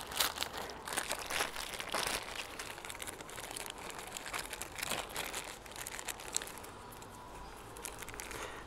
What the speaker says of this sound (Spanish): Ya puedo empezar a poner la bolsa.